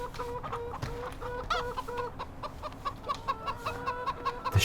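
Chickens cluck repeatedly on a farm in the Farming Simulator 2015 video game, a steady run of short clucks and calls in the foreground over a low background hum, with no talking.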